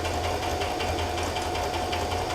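A sewing machine stitches a rag quilt, a steady fast mechanical whir with a rhythmic needle patter, moderately quiet and continuous, with no talking.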